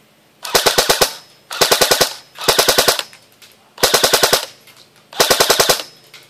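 Five short bursts of full-auto fire from a lipo-ready custom X36C airsoft gun, each a quick rattling string of shots, loud and close with brief gaps between.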